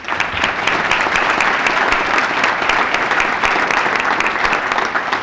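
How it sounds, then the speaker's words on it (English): An awards banquet audience applauds board members, dense sustained clapping from a roomful of people, loud and even for several seconds. "If we could give them a round of applause"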